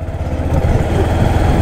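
Motorcycle engine running steadily while riding on the road near Bardiya National Park in Nepal, a continuous low rumble with no break, loud and close throughout.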